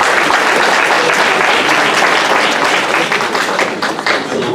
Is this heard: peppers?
no